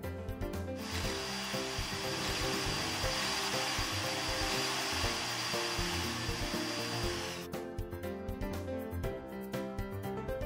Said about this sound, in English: then drill all the way through the joint